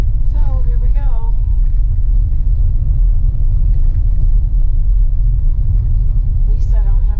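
A car rolls along a small-town road, its tires and engine giving a loud, steady low rumble from inside the cabin, with brief chirping sounds at the start and end.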